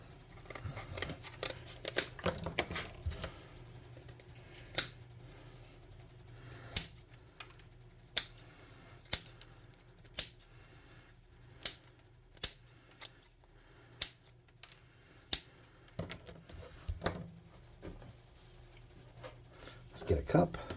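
Scissors snip a small base for a tabletop-game miniature bush, a dozen or so sharp separate clicks spread unevenly over quiet room sound, with a person talking now and then.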